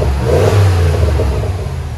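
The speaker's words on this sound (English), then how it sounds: "Next time, go ahead, give a gas." A 2020 RAM 1500 pickup with a 5.7L HEMI V8 and Flowmaster 40 Series dual exhaust revs briefly, a loud, deep, close exhaust roar lasting about two seconds.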